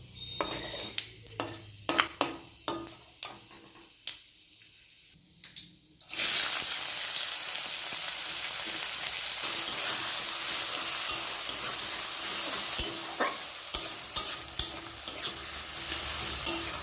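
Chopped onions hit hot oil already holding panch phoron and a bay leaf, so the quiet tapping of utensils gives way to a sudden loud, steady sizzle for a duck egg curry. Stirring clatters continue over the frying.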